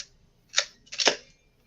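Two crisp mechanical clicks from a Topcon Auto 100 film SLR camera shutter, a short single click followed by a slightly longer double-edged click, close and clear against a quiet background.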